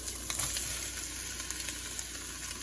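Chopped onion drops into a pan of cooking chicken for jambalaya and sizzles, a soft continuous frying hiss with a few faint clicks, fairly quiet and with no voices.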